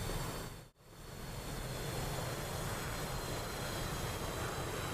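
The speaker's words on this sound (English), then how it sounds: "I'm hearing an engine run out of fuel." An aircraft engine in a combat flight video game drones steadily as the plane runs low on fuel, with one brief dropout near the start before the hum resumes, faint and continuous.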